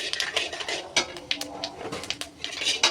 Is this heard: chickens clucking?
no